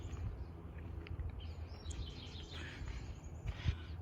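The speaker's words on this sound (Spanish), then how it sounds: "el puro cantar de los pajaritos se escuchan" Small birds sing in a sunny forest park, with scattered high chirps and tweets spread across a few seconds over a soft outdoor hum.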